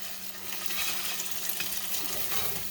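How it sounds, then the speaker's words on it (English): A spatula rakes browned bits off the bottom of a skillet after frying beef round steak for brown gravy, a steady close scraping over a soft sizzle, with no talking. "Now you want to rake all of that out of the bottom of that skillet."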